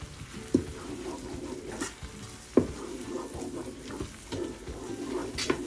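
Potato soup stirred inside a Ninja Foodi pot, with a soft continuous bubbling and swishing plus a couple of sharper knocks of the spoon against the pot.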